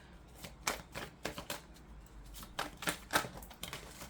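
A deck of tarot cards is shuffled by hand close up, giving a series of soft, papery riffling bursts at an uneven rhythm, with a louder clump of cards dropping out near the end. No one speaks.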